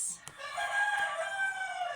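Backyard chickens crowing and clucking close by, a rooster call rising loudly over about two seconds with no talk.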